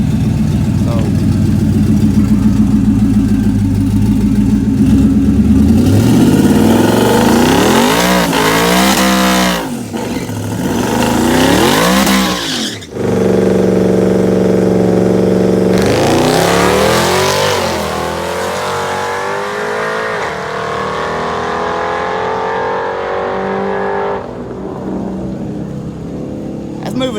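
A twin-turbo Coyote V8 Mustang drag car, running on wastegate boost, roars and revs hard down a drag strip, rising in pitch through repeated gear pulls, dropping briefly, then surging again at close range.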